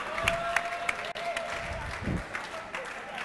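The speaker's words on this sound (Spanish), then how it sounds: "Un aplauso para Eva" Crowd applause fills an esports finals arena, a steady wash of clapping mixed with cheers and a voice briefly over it.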